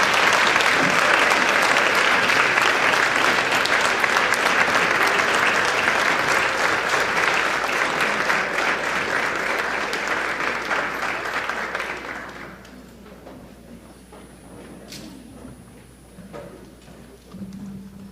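An audience at a school district board meeting applauds an award for the year's counseling support staff member, with sustained, loud clapping that gradually fades out around twelve seconds into near quiet.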